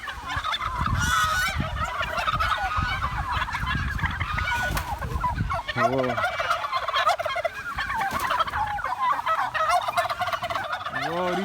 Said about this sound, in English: Yo, check out these turkeys.